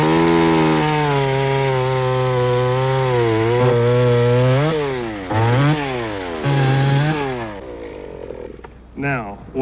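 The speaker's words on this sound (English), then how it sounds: "I'd like you to see what my little steel chainsaw can do" A small Stihl chainsaw revs and cuts through wood, its harsh buzzing whine dipping and rising in pitch as the chain bites, with several bursts and pauses before it cuts off.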